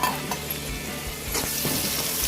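Onions frying in oil with green chillies and chilli powder for Hyderabad chicken biryani give a steady close sizzle, with a few soft stirring knocks partway through and no talk.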